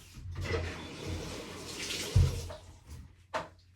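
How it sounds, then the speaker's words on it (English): Water runs and splashes from a bathtub tap in short bursts, with a few thuds and bumps, fairly close and with no talking. "get some water from the bathtub and put on my hair"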